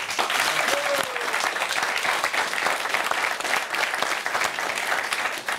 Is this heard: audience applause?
yes